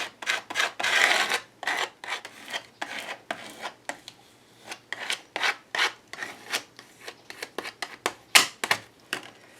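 Repeated rasping scrapes of a stiff credit card dragged across paper with not-quite-dry Mod Podge in a board book, in uneven strokes with brief pauses between, close and fairly loud.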